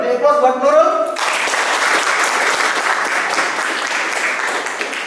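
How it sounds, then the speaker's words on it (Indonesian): Enthusiastic applause from a classroom audience at a medical teaching session, a dense burst of clapping that starts right after a brief spoken line and continues steadily to the end. "Beri aplaus buat Nurul."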